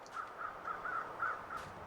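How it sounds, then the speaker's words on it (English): Crows caw in the survival game The Long Dark, set on a snowy island: about six harsh caws in a loose, steady series, fairly clear over a soft wind-like background. "Let's follow the crows."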